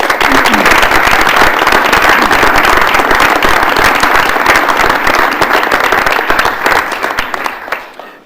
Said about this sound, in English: let's give a round of applause to our Chancellors.